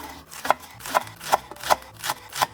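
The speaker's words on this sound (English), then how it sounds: "Leeks, let's go. Grab the white part and slice it thinly." A knife slicing the white part of leeks thinly on a board for kimchi fried rice, with six crisp, evenly spaced cuts, close and clear.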